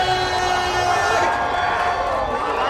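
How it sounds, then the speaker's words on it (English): A combat fight event crowd cheering and roaring loudly as a fighter is introduced, a sustained wall of shouts and whistles with voices blending into the din throughout. "the crowd is going crazy for this one"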